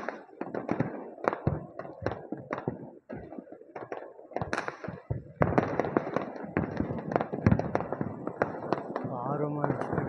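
Firecrackers burst in quick, irregular volleys of sharp cracks and pops at night during a festival of lights, continuing throughout while voices talk nearby.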